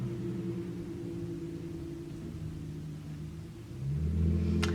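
A car passes at a distance as a low, steady rumble that swells slightly toward the end, faint and alone with no talking.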